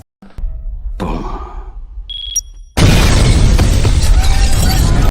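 A sharp crash from a big film explosion gives way to a loud, sustained roar of noise, with a brief electronic tone sounding just before the blast.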